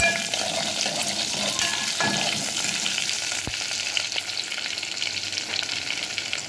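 Garlic sizzles and crackles steadily in a hot frying pan, a constant bright hiss heard close up with no talking.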